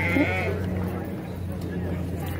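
A lamb at a county FFA market-class livestock show gives a clear, nearby bleat at the start. Afterwards, steady barn and crowd murmur continues.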